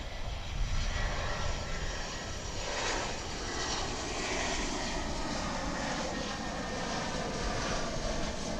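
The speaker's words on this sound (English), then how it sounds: "That's an Airbus A319" An American Airlines Airbus A319 arriving at DFW airport roars past with a loud, sustained engine rumble and a broad rushing whine that holds steady throughout, with no talking.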